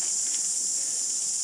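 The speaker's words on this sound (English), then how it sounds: "We must be down a bit to a certain level because all the cicadas are living here." Cicadas in a rain-soaked native forest in New Zealand's Kaimai Ranges, a steady high-pitched shrill drone that holds unbroken throughout with no voices over it.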